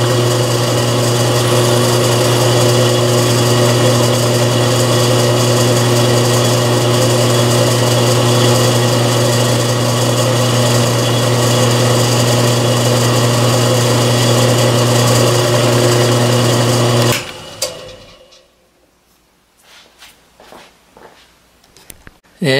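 A power tool cuts threads for a 10-24 screw in a metal compound slide lock, giving a loud, steady, high-pitched whine for about seventeen seconds before it cuts off, leaving quiet clicks and handling noises.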